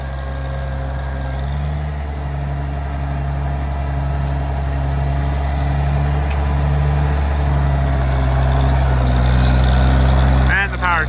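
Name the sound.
Oliver 770 tractor engine running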